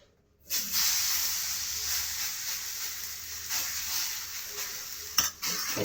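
Lauki (bottle gourd) thalipith batter hits an oiled hot tawa and sizzles loudly and steadily right after a quiet start, a close, continuous frying hiss with a brief sharper burst near the end.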